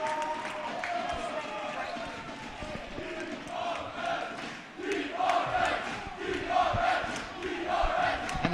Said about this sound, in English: the noise level is through the roof.